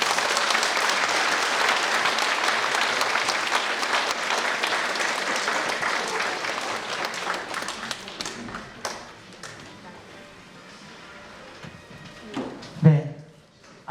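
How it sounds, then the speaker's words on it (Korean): An audience of about two hundred at a Catholic diocesan gathering of priests, religious and laypeople in Jeju applauds. Dense clapping fills the first seconds, then thins and fades to scattered claps and a few knocks. "다시 한 번만 큰 박수 부탁드리겠습니다"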